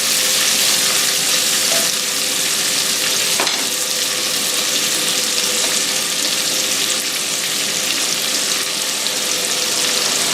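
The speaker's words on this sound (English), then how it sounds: "Go ahead and brown these sausages off." Sausages browning in a hot pan for Dublin coddle give off a loud, continuous sizzle that holds steady throughout, with one brief clack partway in and no talk.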